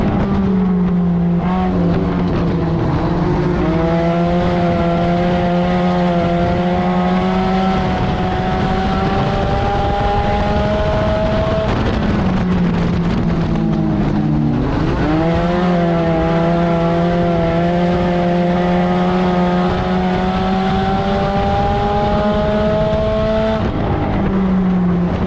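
Race cars running laps on an oval track, loud sustained engine drone with rising and falling pitch as cars pass, a dip and swell around mid-way as the pack slows and accelerates again, no talking.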